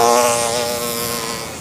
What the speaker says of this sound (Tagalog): Huliin ko yung bubuyog, tatakpan ko nito